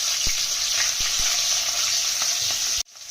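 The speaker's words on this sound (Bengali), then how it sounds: "কালো জিরে কাঁচা জিরে কাঁচা লঙ্কা পেঁয়াজগুলো দিয়ে দিলাম" Onions, nigella seeds, cumin and green chillies fry in hot oil for a tel koi fish dish, giving a loud, steady sizzle with soft stirring clicks. The sizzle cuts off abruptly just before the end.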